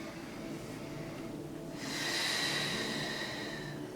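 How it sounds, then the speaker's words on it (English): Slow, soft breathing in and out during a spine alignment stretch, faint at first and then a fuller, airy exhale rising midway and holding steady, with no talking. "As you inhale and exhale."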